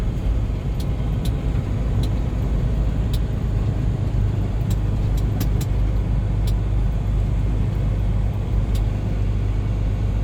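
A truck drives slowly behind a loader on a company yard, its engine a steady low rumble heard close and continuous, with faint clicks over the top and no speech.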